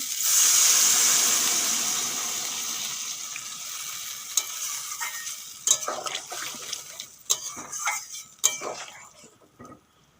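Water poured into a pan of frying shola kochu (taro) with slit green chillies sets off a loud hiss that eases gradually, followed by scattered utensil clinks and stirring knocks toward the end.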